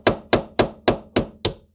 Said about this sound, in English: by hammering like that, I should be able to make it come loose.